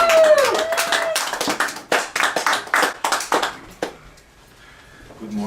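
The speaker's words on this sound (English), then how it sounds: "let's give a nice round of applause to one of our brand new ministers" A church congregation welcoming a new minister gives a short burst of irregular clapping that is loud at first, thins out and stops, with a voice briefly heard at the start.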